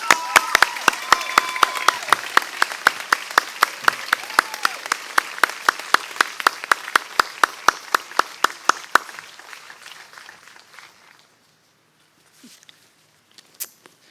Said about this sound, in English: please stand and applaud the accomplishments and transformation of Nick Steelman